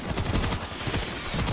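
Rapid automatic gunfire in the zombie shooter World War Z, a dense, continuous burst of loud shots with no pause, mixed with game noise and no speech.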